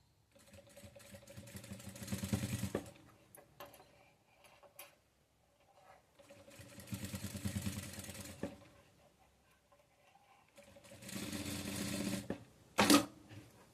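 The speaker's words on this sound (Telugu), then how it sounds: "ఈ అంచు వెంబడి కొన వెంబటి కుట్ట అయితే నిదానంగా వేసుకోండి." An electric sewing machine stitches slowly along the edge of a dress sleeve in three sustained runs with pauses between, a steady rhythmic whirring chatter, close and fairly loud, ending with a sharp click.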